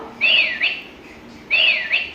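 A toy gives a bright electronic whistle, a rising-and-falling phrase played twice with a short pause between, loud and close.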